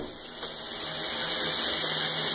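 Steady rushing hiss of a running shower, constant and close, slowly growing a little louder, with no voices.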